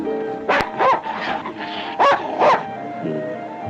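A dog in a 1940 fantasy adventure film barks and yips in short, loud bursts, about five close barks spaced irregularly with brief whimpering tones between them.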